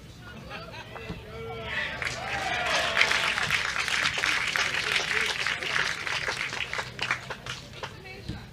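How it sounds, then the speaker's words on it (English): Crowd applause at a lawn bowls singles quarter-final swells and then fades, mixed with chatter from spectators and a few nearby voices. "That applause was for the local Dark boy, horse. the local boy, Gareth Nell."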